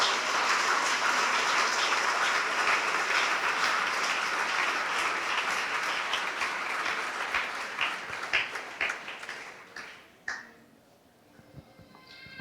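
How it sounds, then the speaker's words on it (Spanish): A church congregation gives sustained applause during a sermon, a loud dense wash of clapping that gradually thins into scattered claps and fades out near the end. "Denle un aplauso al Señor en este momento."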